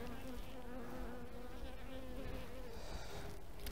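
Honey bees buzz steadily around a hive nucleus outdoors on a warm day, a continuous close droning hum with wavering pitch, no voices present.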